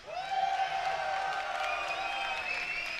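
A crowd at a Mortal Kombat 9 fighting-game tournament cheers, whoops and claps in a steady, loud roar that fills the hall for several seconds.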